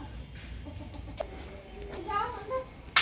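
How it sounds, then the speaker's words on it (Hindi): A hen clucking in a poultry yard, with a few short, soft clucks and a brief sharper squawk over background noise at low to moderate volume. "तो इस मुर्गी को हम लोग अलग बंद कर देंगे"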